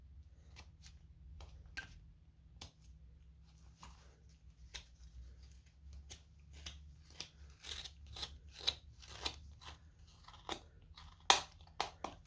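Scissors cut through the brim of a small doll's hat in a series of crisp, quiet snips. The cuts come irregularly at first, then quicker and sharper toward the end.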